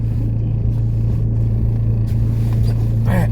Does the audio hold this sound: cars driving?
yes